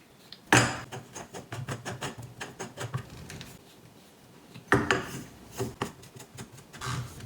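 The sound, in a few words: tightening threaded trampoline legs onto pegs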